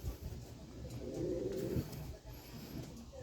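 A domestic pigeon, an off-color hen kept as breeding stock, gives a low cooing phrase close by, the coo swelling in the middle and fading, with no voices.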